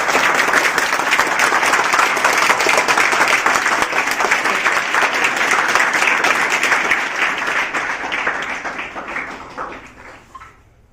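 A seated audience at a memorial award event for children bursts into loud, dense applause to welcome guests, sustained for several seconds before thinning and fading out.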